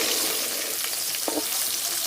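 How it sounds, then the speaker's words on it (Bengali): Steamed eggs lightly frying in hot oil, a steady dense hiss close by with a couple of soft spatula taps, no one speaking. "একটু ভাজা নিলে ভাল লাগবো তাই ভাজা হালকা ভাজবো"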